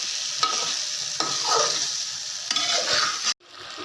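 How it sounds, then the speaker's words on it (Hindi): Okra with tomato and onion sizzling steadily in a pan while being stirred, scraping strokes recurring every second or so, close and continuous until an abrupt cut near the end. "भिंडी हमारी भून चुकी है"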